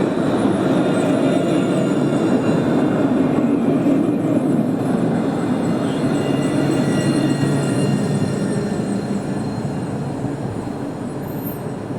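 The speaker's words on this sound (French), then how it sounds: "Donc là, il y a un tram qui arrive." A line 3 tram arriving at Pérols station, a steady broad rumble and hum that holds at an even level throughout and eases off slightly toward the end, with no voices.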